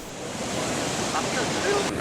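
Swollen Grindulu river in Pacitan rushing in flood after heavy rain: a loud, steady roar of fast-moving water, near and continuous, with a faint trace of voices under it.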